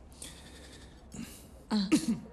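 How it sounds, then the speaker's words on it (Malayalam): A person with a sore throat gives a few short coughs close by, the last two bursts loudest near the end after a quiet start. "ചുമ."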